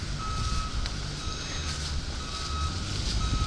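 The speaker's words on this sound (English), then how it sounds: "And the school bus beeping away obnoxiously." A school bus reversing alarm beeps repeatedly at a steady rhythm, moderately loud over continuous outdoor traffic rumble, with no talking.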